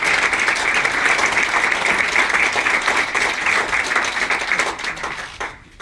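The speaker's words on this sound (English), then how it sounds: "Let's give them a round of applause." Audience applause at a New York bill signing ceremony, a dense, steady wash of many hands clapping that holds for several seconds and then tapers off quickly at the end.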